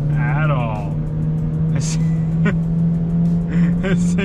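A Chevy Cruze from a Copart salvage auction accelerating under throttle, with a steady engine drone heard from inside the car while a person talks over it.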